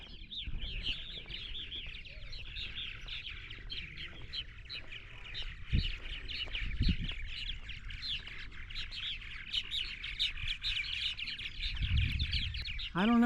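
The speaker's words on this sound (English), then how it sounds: "Wow, listen to those birds." Many birds chirp and tweet continuously in a dense outdoor chorus, with occasional low bumps and rustles beneath.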